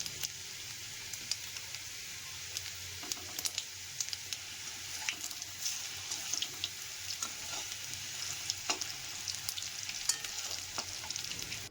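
Potatoes fry in a pan as a cumin tempering goes in, making a soft, continuous crackling sizzle with scattered faint stirring taps.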